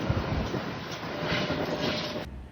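A sudden windstorm sweeps over a home balcony just before rain, heard as a loud, steady roaring rumble of wind gusts that cuts off abruptly near the end.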